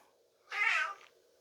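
A single loud, short meow from a cat sitting in a bathtub, slightly echoey in an otherwise quiet indoor space, with a hint of another cry starting at the very end.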